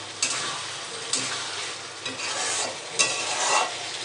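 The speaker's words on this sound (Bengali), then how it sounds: "এখন আমি আরও একবার নাড়াচাড়া করে নেব।" Spiced masala being stirred in a frying pan for egg curry, a steady oily sizzle broken by a few scraping strokes of the spoon, close and fairly loud with no talking.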